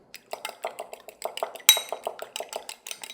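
A utensil whisks eggs in a bowl for chicken corn egg drop soup: quick, steady clinking strokes against the bowl's side, close and moderately loud, with a sharper knock midway.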